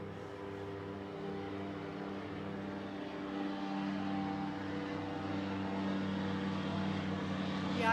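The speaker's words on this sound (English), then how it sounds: "here comes another plane overhead" An airplane passes overhead near a river, a steady broad engine drone with low tonal hum that grows slightly louder toward the end, heard alone without talk.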